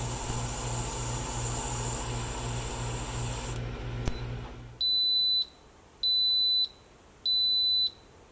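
An Instant Pot Duo Nova 10-quart pressure cooker signals the end of its cook time with three evenly spaced, loud electronic beeps. They follow a steady low hum that stops abruptly.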